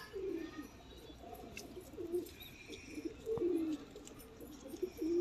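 Pigeons, including white-eyed teddy pigeons, give soft, low repeated coos, faint and fairly close, rising and falling in short phrases against a quiet background.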